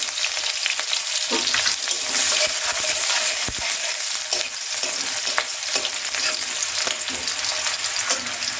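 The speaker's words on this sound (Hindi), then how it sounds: "तेज पत्ता के बाद में जो हमारी प्याज हमने बचा के रखी थी वो प्याज डाल देते हैं।" Onions fry in hot oil with a bay leaf for a chicken masala, giving a loud, steady, close sizzle with occasional stirring scrapes and no talking.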